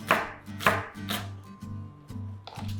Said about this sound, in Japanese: 長ネギをみじん切りします。